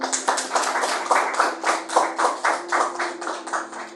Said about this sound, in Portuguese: Palmas para Jesus, irmão.